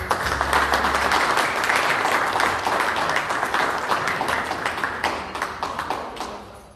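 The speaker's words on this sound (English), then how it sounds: "another round of applause, please, for the father of the bride" Wedding guests applaud for the father of the bride, a sustained wash of many hands clapping close by that slowly fades toward the end, with a low musical tone under the opening second.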